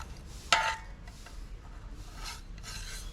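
Masala of turmeric powder, chili powder and salt worked into cut fish pieces by hand, giving soft wet rubbing and rasping strokes with one sharper burst early on, close and moderately quiet with no talk.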